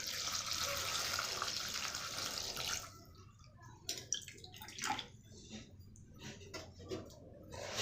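Water pours steadily into a pot of onions, turmeric and salt for a few seconds, then stops, followed by scattered clinks and light sloshing from the pot close by.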